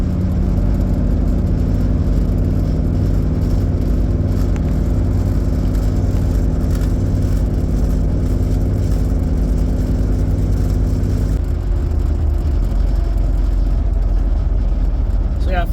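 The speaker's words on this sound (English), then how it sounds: "So yeah, first impressions of driving a square body." Squarebody Chevrolet Suburban driving on a highway, a loud, constant engine drone and road roar from inside the cabin with a shift in tone near the end, a voice talking over it.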